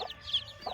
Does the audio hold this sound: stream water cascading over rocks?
no